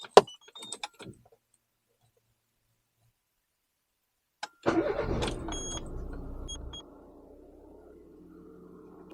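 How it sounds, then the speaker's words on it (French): Keys jingle briefly, then quiet, then a four-cylinder car engine running on E85 bioethanol cranks and catches, revving loudly before settling into a steady low idle. "nous allons démarrer la voiture, voir déjà si ça démarre"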